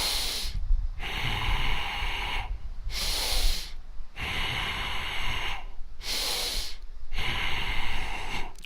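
Forceful breaths during a seated dynamic tension breathing exercise, loud close sniffing inhales and hissing exhales repeating in a steady rhythm of about one per second, with brief quiet gaps between bursts.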